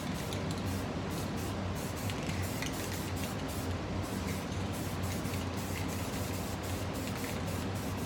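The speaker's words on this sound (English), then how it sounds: "I'm dusting areas, and this is dust that's coming out." Light brown dust paint sprays onto a Mudtrooper costume jacket as a continuous close airbrush-like hiss, even and unbroken, with faint flickers in the spray.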